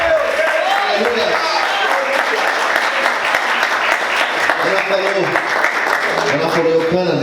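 A church congregation claps hands loudly and steadily during a worship service, dense continuous applause with voices calling out over it throughout.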